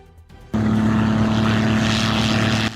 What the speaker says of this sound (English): Aircraft veered off control on the runway and crashed before stunned witnesses watching the unfolding emergency.